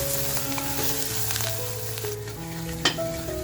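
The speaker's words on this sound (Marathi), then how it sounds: "काळा मसाला जो केलाय तो काळा मसाला अगदी छान आपल्याला परतवून घ्यायचंय" Homemade kala masala for mutton sizzles loudly as it is sautéed in a pan, a dense steady crackle with light stirring and one sharp knock, without any talking.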